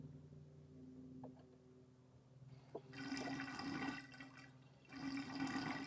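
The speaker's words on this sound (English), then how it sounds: "We can remove that body plug and let the water drain out of the bottom." Water drains out of a car's floor through an opened body-plug hole after a leak soaked the carpet, heard as a soft trickle that turns into loud rushing gushes in two bursts.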